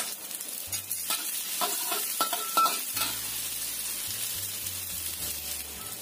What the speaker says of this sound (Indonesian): Kita masukkan, tumis dulu bawang merahnya ya.